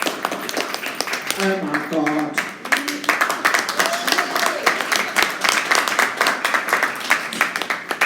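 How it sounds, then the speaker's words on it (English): An audience at a live business book club event gives a round of applause; steady, crowded clapping runs through the whole stretch, with a few voices calling out over it early on. "Give yourself a round of applause."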